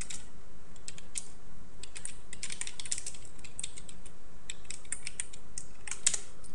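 Rapid typing on a computer keyboard while working in a word processor, the key clicks coming in quick irregular bursts, close and steady with no talk.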